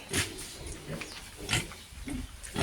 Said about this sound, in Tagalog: This is my pig. Native pig.